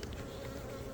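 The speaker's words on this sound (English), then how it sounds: "Look at the amount of bees." Honey bees buzz densely around an open hive during a colony inspection, a loud, close, continuous drone with no talking.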